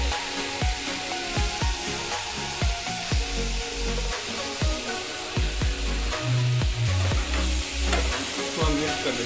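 A tomato and onion curry with turmeric sizzles in a pan while a spoon scrapes and stirs it in regular strokes, loud and close with a continuous frying hiss underneath.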